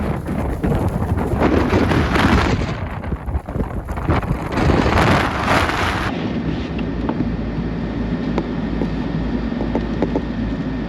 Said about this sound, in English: historic blizzard continues to rage here across downtown Buffalo, leaving vehicles stranded in the middle of the road throughout downtown